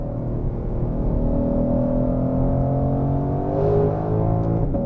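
A 2021 Shelby GT500 accelerating hard, a loud, close engine drone climbing steadily in pitch through the gears from inside the car; the pops between shifts are not clearly distinct.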